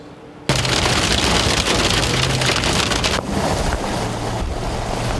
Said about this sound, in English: we had reports of hail as big as quarters